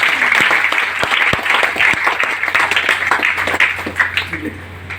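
An audience gives loud, sustained applause at a gathering, dense clapping that continues with a few sharper claps standing out, and no clear talk on top.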